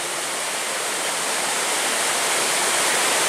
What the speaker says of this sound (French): toutes les cascades que je viens de vous montrer